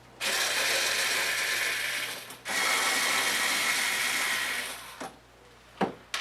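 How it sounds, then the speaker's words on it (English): A power driver removes the four screws at the meter end of a battery charger cover, whirring steadily for about two seconds, pausing briefly, then running again for over two seconds, followed by a few sharp clicks. "We're going to remove the 4 screws at the meter end."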